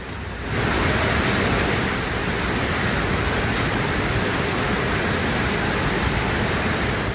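Hogenakkal waterfall pours in a loud, unbroken hiss and roar of falling water that rises in the first half second and then holds steady.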